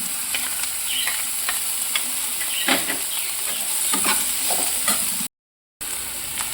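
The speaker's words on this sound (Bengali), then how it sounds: "এবার লঙ্কা আর আদার পেস্টটা দিয়ে দিচ্ছি।" Chili and ginger paste added to figs and potatoes frying in a pan for a Bengali vegetarian dish, a steady sizzle with irregular spatula scrapes and clinks up close, then a short silent break before the frying resumes.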